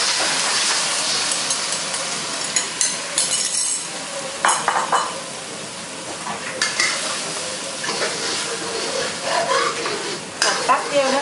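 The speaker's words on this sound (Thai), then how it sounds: "ผัดแป๊บเดียวนะคะพอให้ไข่สุกเป็นริ่มๆนะคะไม่ต้องผัดนานนะ ผัดตามเลยค่ะ" Steamed crab and egg being stir-fried in a hot pan, with continuous sizzling and hissing, clinks and scrapes of the utensil against the pan throughout.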